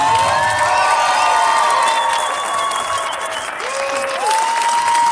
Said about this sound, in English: give our riders a big round of applause